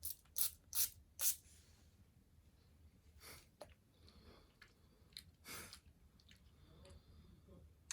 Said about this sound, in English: We're going to grab the room spray and I'm going to spray it